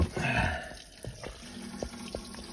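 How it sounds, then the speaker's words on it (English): Water spills over the rim of a water barrel inside a warm high-tunnel greenhouse, a burst of splashing at the start followed by scattered drips and trickles, fairly close and alone. "I overflowed my barrel."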